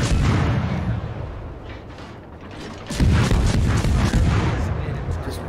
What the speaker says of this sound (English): my guns are not only fast firing, but also very long range